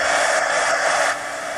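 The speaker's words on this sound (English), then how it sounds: "Now I'm going to get the heat gun and dry all these elements real quick." Heat gun blowing hot air to dry mixed media paint on a napkin art journal page, a steady loud rushing hiss that holds throughout and drops slightly near the end.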